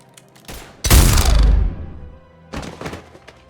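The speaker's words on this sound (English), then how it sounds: "Now open fire!" Mass Effect 3 gunfire erupts in a heavy burst of rapid booming shots that decays into a rumble, followed after a pause by a second, lighter spatter of fire.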